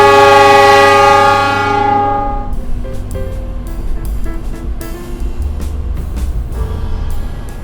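The Gajayana Luxury train departs Cirebon station, opening with a loud sustained horn blast that fades after two seconds, followed by rhythmic clacking of wheels over rail joints as it rolls away.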